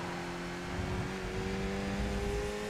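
A Mazda MX-5 engine in the iRacing sim at Donington drops through a downshift, giving a continuous close drone with steady engine tones shifting in pitch as revs change, and no one talking.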